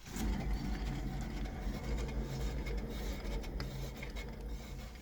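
A worn rear wheel bearing on a Toyota Yaris 2, the raised wheel spun by hand, gives a steady low grinding rumble with a rough rasping texture, close and continuous throughout.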